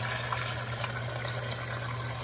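Water pours steadily into a pot to make a broth for stuffed grape leaves, a continuous close gushing splash with no talking.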